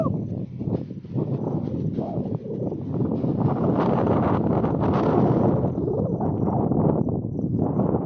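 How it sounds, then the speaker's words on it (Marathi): Wind gusts across an exposed hilltop beside an ancient clifftop temple in Maval near Talegaon, a loud continuous buffeting roar striking the microphone, rising and falling throughout. "मजा घेत असताना सुंदर असा वारा सुटलाय."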